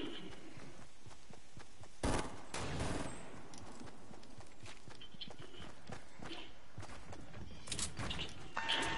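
Bursts of assault rifle fire in an online video game, with a dense volley around the middle and another near the end over constant noisy game background.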